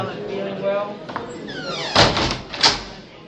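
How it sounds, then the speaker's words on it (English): A conference room door swings shut with a couple of firm thuds and latch clatter in the latter half, heard beneath someone talking nearby. "So if I close this door,"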